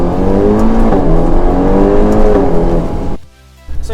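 A 2019 Ferrari Portofino launching at full throttle in first gear, engine note rising hard with climbing harmonics and a rasping exhaust, loud and close, then cutting abruptly before the engine settles back near idle.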